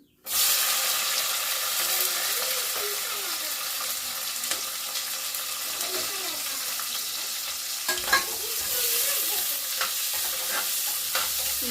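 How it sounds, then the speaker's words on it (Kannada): Onions fry loudly in a pan with cardamom for egg biryani, giving a steady close sizzle over nearly twelve seconds, broken by repeated scraping strokes of a stirring spoon. "ಈರುಳ್ಳಿ ಏನು ಹಾಕಿದ್ದೀನಲ್ಲ ಅದು ಚೆನ್ನಾಗಿ ಫ್ರೈ ಆಗಬೇಕು"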